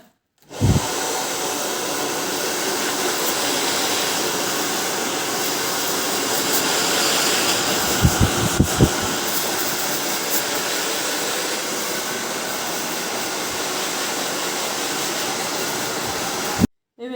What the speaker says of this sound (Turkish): Şimdi fön makinesiyle e, saçı kurutuyoruz.